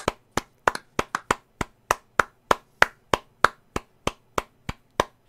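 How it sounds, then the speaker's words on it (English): A small group claps for key workers, sharp evenly spaced claps in a steady rhythm, close and loud with no talking. "can we do a clap? It's gonna like an NHS clap,"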